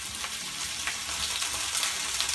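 Potatoes going into a hot pan to cook, giving a steady, close sizzling hiss that holds evenly throughout with faint scattered crackles and no talking.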